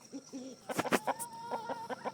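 A jumbo chicken clucks in short, close bursts, a few quick squawky calls followed by a run of softer rhythmic clucks, fairly faint and alone.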